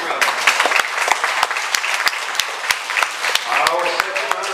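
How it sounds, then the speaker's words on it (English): Audience at a county fair pageant clapping, a steady dense round of applause from a crowd at moderate distance, with a voice talking underneath. "Give him a big round of applause."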